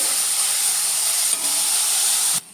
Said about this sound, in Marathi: आता तितून कांदा घालून घ्या, जे बारीक कटकन घेतला। बरं हो भाजून घ्या मऊ जातपर्यंत।